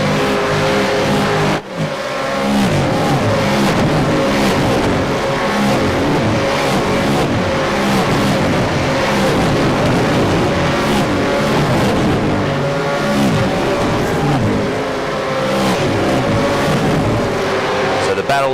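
V8 race cars at the Belle Isle circuit accelerating back to full racing speed on a green flag restart, engines roaring and revving loudly and continuously as several cars pass, with a commentator talking over them.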